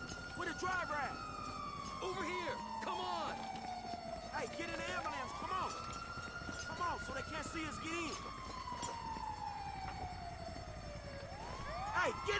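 An ambulance siren wails continuously in the Grand Theft Auto video game, rising and falling in long sweeps over a noisy city scene with voices talking over it.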